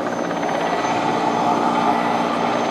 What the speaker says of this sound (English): This is an armed version of the helicopter